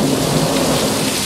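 Heavy rain pours down steadily in Lubbock with a low rumble of thunder underneath, a loud, dense and continuous wash of sound with no voices.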